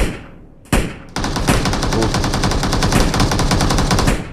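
Rapid automatic gunfire in a shooter video game, loud and close: a single sharp shot, a short pause, then a sustained burst of evenly spaced rounds that continues to the end.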